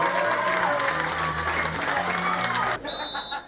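A football crowd at an amateur match between SV Thörl and SV Raika Stanz, applauding and cheering after a goal, with steady clapping and a commentator talking over it before it drops away.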